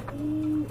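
A single soft coo from an Andalusian pigeon, one short low tone held for under a second, close and fairly quiet with no talk.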